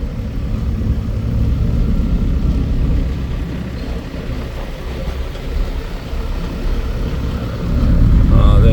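A Nissan S14 fitted with a 2JZ engine and an eight-speed gearbox at Tsukuba Circuit gives off a loud, low engine rumble, nearby and sustained, rising again toward the end.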